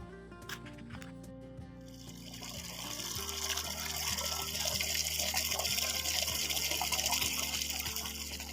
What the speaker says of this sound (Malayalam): ഞാൻ ചെടിക്ക് വെള്ളം ഒഴിക്കാനായിട്ട് പോവുകയാണേ